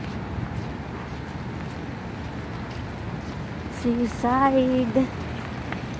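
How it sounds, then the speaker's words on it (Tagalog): Heavy rain hisses steadily on surfaces along a seaside promenade, a constant dense wash throughout, with a brief voice rising over it for a moment. "Lakas ng ulan"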